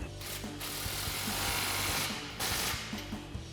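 A ratcheting wrench clicks in quick runs while tightening an exhaust clamp on a RAM 1500 pickup, the rhythmic ratchet bursts close over steady background hum, no talk.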